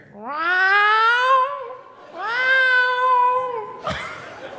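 A person imitates a cat, giving two long, drawn-out meows close to the microphone, followed by a brief scuffing noise.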